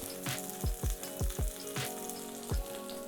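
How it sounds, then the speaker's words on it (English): Salmon sizzles steadily in a hot frying pan, a constant crackling hiss with a few soft thumps and scrapes over it. "that's moving nicely, sizzling away"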